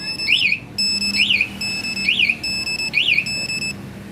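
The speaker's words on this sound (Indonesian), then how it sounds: "Untuk aktifin alarm secara manual, di sini tombol merah ini pencet." A Kawasaki Ninja 250FI motorcycle's smart key security alarm wails in four repeating rising-and-falling chirp cycles over a steady high beep, loud and close, with no voices.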